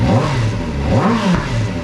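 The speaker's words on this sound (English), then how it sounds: "just with a couple of revs there" A Kawasaki ZX-4RR fitted with a Yoshimura AT2 slip-on exhaust revs a couple of times close by, the engine note rising and falling loudly with a raspy, continuous tone and no talk.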